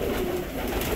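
A pigeon coos close by in a low, steady, continuous murmur that lasts the whole second, with no voices over it.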